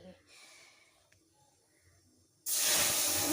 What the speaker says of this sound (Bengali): এখন আমি এই ডালটা ঢেলে দেব এইখানে।